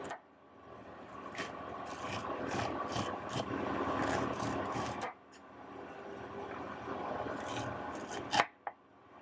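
A sharp knife slices fresh corn kernels off the cob, giving a close, continuous scraping and crunching that runs for several seconds, pauses briefly, then resumes with a few sharper cuts at the end.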